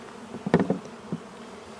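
Honey bees buzz around a top bar hive in short, close bursts of droning hum that rise and fade within moments.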